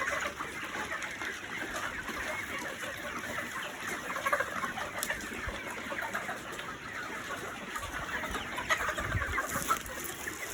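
A flock of chickens clucking and murmuring close by while eating pellets, with soft scratching and pecking sounds throughout, fairly quiet and continuous.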